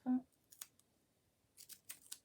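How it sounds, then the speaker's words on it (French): A few quiet, crisp snips of scissors, scattered in short pairs after a brief murmur, close and faint. "Hop là, les ciseaux."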